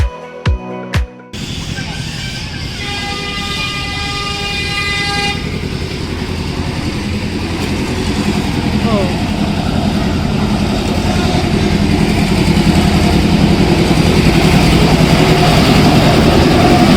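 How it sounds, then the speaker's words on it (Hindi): A toy train at Indira Gandhi Park in Rourkela sounds a steady horn for a few seconds after some sharp clicks, then its engine rumbles on loudly and continuously, with voices faintly mixed in. "तो अभी हम लोग जा रहे हैं टॉय ट्रेन में बैठने के लिए।"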